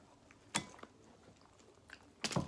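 Close-up bites into a crunchy breaded Popeyes fried chicken sandwich with a buttery bun, two sharp crunches separated by soft chewing, quiet between bites and no speech.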